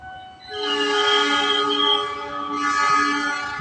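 The horn of a CC 206 diesel locomotive sounds as it passes near Bogor Paledang. It gives two long, loud, close multi-tone blasts with a short dip between them.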